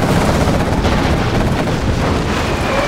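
Quad cannon fire in Command & Conquer Generals Zero Hour, a dense, continuous barrage of rapid gunfire and explosive bursts that stays loud and unbroken for the whole stretch, with no talk.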